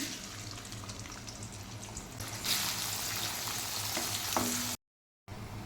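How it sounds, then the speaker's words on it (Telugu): Thinly sliced onions hit hot oil for a chicken curry gravy, giving a steady, close sizzle with a brighter surge partway through, then a brief cut to silence. "ఆయిల్ హీట్ ఎక్కింది కదా, ఉల్లిపాయ ముక్కలు వేస్తున్నాను"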